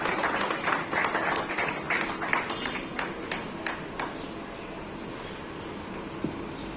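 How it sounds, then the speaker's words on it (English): Audience applause at a school Independence Day celebration for a yoga rhythmic prize winner, a broad wash of clapping with sharper individual claps standing out, gradually thinning toward the end. "Give her a huge round of applause"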